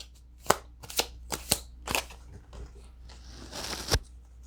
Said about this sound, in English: I'll still pull some cards to clarify.